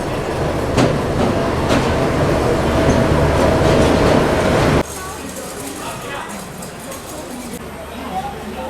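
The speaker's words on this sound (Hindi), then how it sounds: "अपनी 12005 कालका शताब्दी एक्सप्रेस को प्लेटफॉर्म नंबर 1 पे लगाया जा रहा है न्यू दिल्ली रेलवे स्टेशन के" Kalka Shatabdi Express train 12005 being placed at platform 1 of New Delhi railway station, with a loud rolling rumble and wheel clatter that drops abruptly to a quieter hum midway.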